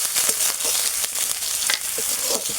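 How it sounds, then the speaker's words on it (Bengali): Grated kohlrabi stirred in a hot pan with turmeric and salt, giving a steady close sizzle and crackle with scraping stir strokes scattered through, no voices. "এবার এটাকে একটু ভালোভাবে নেড়ে নেব।"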